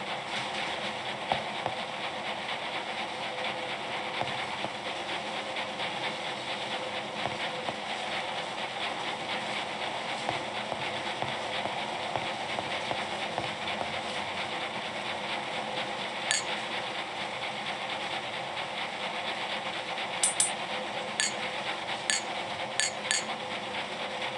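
A luxury train runs in the PC game Murder on the Orient Express: a steady, quiet rolling rumble throughout, with faint rhythmic ticks and clicks joining toward the end.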